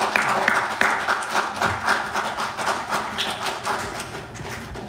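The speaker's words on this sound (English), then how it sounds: "Bless the Lord again in a hand clap of praise." A church congregation claps together in praise during a Sunday morning worship service, a dense, steady wash of many hands that fills the room and continues for several seconds with no speech over it.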